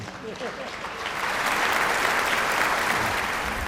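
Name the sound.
audience applause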